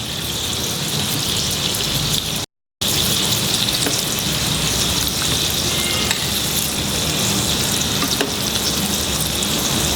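Mutton koftas frying in a pan of hot oil give a steady, dense sizzle with bubbling crackle that runs nearly the whole time, broken by one brief gap.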